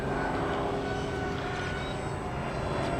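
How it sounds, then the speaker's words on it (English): FMS P-51 radio-controlled model airplanes lined up for takeoff, their electric motors giving a steady, loud, continuous whine and buzz close by, with no talk over it. "We have three aircraft now lined up, ready for takeoff."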